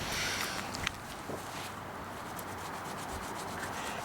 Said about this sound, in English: that's the best time to rub off any little excess bits that have remained on the tiles